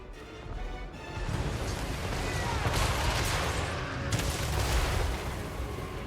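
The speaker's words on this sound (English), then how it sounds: "I do love just watching a lot of units crisp from my mortars and catapult fire" Mortar and catapult fire during a Total War: Warhammer 3 battle, a dense rumbling barrage of booms and impacts rolling on continuously at moderate distance, with no clear pauses between them.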